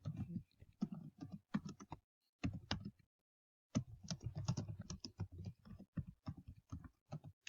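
Typing on a computer keyboard while working in Google Docs. The keystrokes come in quick, irregular bursts of close clicks. One brief pause breaks the run partway through. No one speaks.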